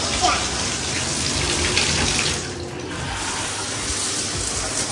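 Shower water sprays steadily and fills the room with a continuous hiss, with a brief dip partway through before it carries on.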